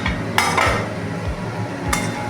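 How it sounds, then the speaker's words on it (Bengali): A metal lid clanks onto a pot of fish curry twice, sharp and close, over a low steady hum. "ঢাকনা দিয়ে ঢেকে দেবো"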